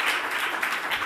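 Applause from a conference audience at a panel discussion on health reform and criminal justice, a dense steady wash of many hands clapping together, loud and close, filling the short moment without voices.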